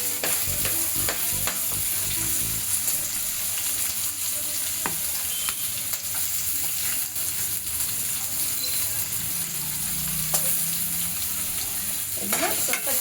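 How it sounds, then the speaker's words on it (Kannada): Onions and curry leaves frying with ginger garlic paste for an egg gravy, a loud, dense, continuous sizzle close up with occasional scrapes of a stirring spoon and a brief splash late on. "ಇದನ್ನ ಸ್ವಲ್ಪ ಚೆನ್ನಾಗಿ ಫ್ರೈ ಮಾಡ್ಕೊಳ್ತೀನಿ. ಒಂದು ಸ್ವಲ್ಪ ಡಾರ್ಕಾಗೆ ಈರುಳ್ಳಿ ಸ್ವಲ್ಪ ಡಾರ್ಕ್ ಕಲರ್ ಬರಬೇಕು, ಅಲ್ಲಿವರೆಗೂ ಸ್ವಲ್ಪ ಫ್ರೈ ಮಾಡ್ಕೊಳ್ತೀನಿ"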